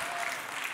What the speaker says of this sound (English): Let's give Danielle a round of applause.